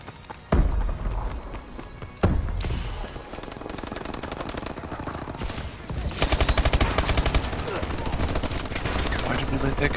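Rapid turret gunfire rattles in an online shooter, with sustained machine-gun bursts and a few sharp single shots, loud and close.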